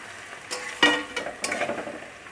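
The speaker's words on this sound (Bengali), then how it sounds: "সবজিগুলো একটু ভাজা ভাজা হওয়ার পরে এখানে পেঁয়াজগুলো দিয়ে দিল" Sliced vegetables and onions sizzle and are stirred in a pan while cooking chowmein, with a few scraping stirs and crackling bursts over a soft frying hiss.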